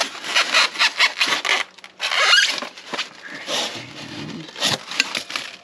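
Dense styrofoam packaging being pulled off a compressor, with close squeaky rubbing and scraping bursts, a sharp squeal of foam midway, then quieter crinkly handling.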